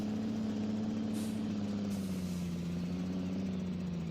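The engine of a big, heavy Kloss tractor in Farming Simulator 2013 drones loud and steady as it climbs a hill, its pitch sagging slightly, with a brief hiss in the middle and no talk.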